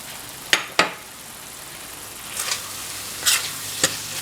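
Dried prawns stirred into masala in a hot pan, giving a steady close sizzle broken by a few sharp spatula scrapes and knocks against the pan, with no voices.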